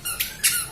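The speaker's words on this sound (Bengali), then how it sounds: "পাখি ডাক পাখির ডাক ডাকছে এটা" Two short, high-pitched bird chirps from a bird perched on a rooftop, close by and fairly clear, against a quiet background.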